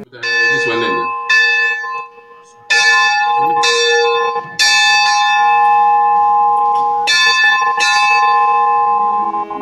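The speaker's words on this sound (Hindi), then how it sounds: "पोप फ्रांसिस के इंतकाल की खबर के बाद रोम के तमाम चर्चेज में घंटियां बजाई गईं।" Church bells peal across Rome after the death of Pope Francis, several bells of different pitches striking in overlapping strokes with long ringing tails, loud and continuous throughout.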